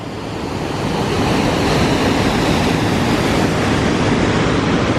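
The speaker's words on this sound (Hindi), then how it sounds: "ये एक अट्रैक्शन है यहाँ की, जो है पूरा वाटरफॉल है।" A waterfall in England's Lake District gives a steady, loud, broadband rushing roar that swells slightly in the first second, then holds constant throughout with no voices.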